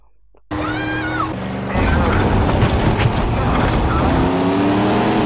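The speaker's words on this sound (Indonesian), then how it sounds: "Broker putar balik dan tancap gas untuk mengejar Gator." A car engine roars and accelerates in a movie chase scene, loud and close, jumping up in intensity partway through amid rushing wind and action noise, with some voices mixed in.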